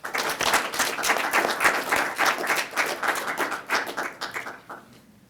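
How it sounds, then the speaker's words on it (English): An audience at a poetry reading gives a warm round of applause welcoming the poet Gwen Beatty to the stage; brisk, fairly close clapping holds steady for about four seconds, then thins out and fades. "Let's bring her up with a round of applause"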